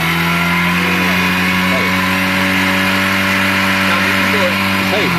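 Motorcycle engine that won't start on the electric starter, running steadily with strong low harmonics while being revved, with talk over it throughout.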